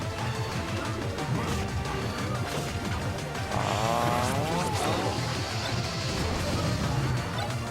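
A character rides a motorbike in Super Smash Bros. Brawl, its buzzing engine whining and rising in pitch amid dense game effects and impacts, loud and continuous.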